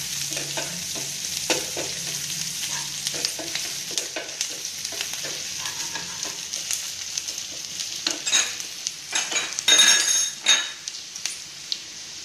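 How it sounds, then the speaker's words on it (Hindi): Onion fries with grated ginger in a pan, giving a continuous soft sizzle. Stirring scrapes and light metal and glass clinks grow busier toward the end, with no one speaking. "प्याज भूनने पर इसमें थोड़ा सा घिसा हुआ अदरक डाल दीजिए"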